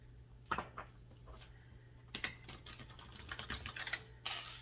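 Soft papery rustles and crisp clicks of tarot cards being shuffled, a few bursts with short pauses between, close and fairly quiet.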